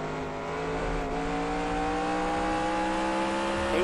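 A NASCAR stock car engine roars steadily at Motordrome Speedway in NASCAR Racing 2003 Season, a loud sustained drone with harmonic whine that rises slightly in pitch near the end, nothing else over it.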